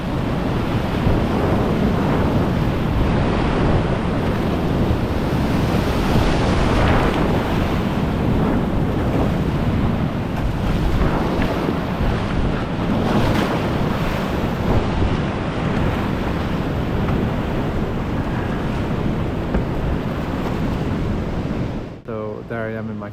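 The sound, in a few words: crashing waves of river rapids in Cataract Canyon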